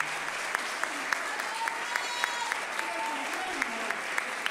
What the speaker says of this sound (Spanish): un fuerte aplauso para nuestro artista plástico que hizo gran y hermoso trabajo gráfico